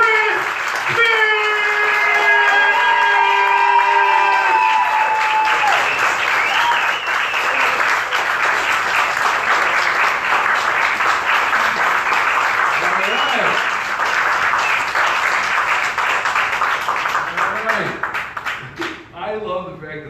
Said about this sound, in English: start clapping your hands right now